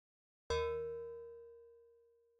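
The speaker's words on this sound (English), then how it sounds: "Alright, new instrument. What are we looking at? Tinkle Bell?" A single struck note from a tinkle bell instrument, a bright metallic ring that decays slowly and rings out alone in silence.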